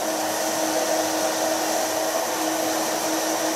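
A hair dryer blow-drying a man's hair, steady loud whooshing airflow with a constant motor whine, close and unbroken throughout.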